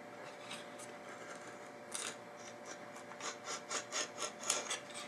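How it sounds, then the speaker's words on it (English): A razor knife cutting through cork on a guitar neck angle jig: quiet, close scraping and slicing strokes, becoming more rhythmic toward the end over a faint steady hum. "I'm now just going to use my razor knife to cut this."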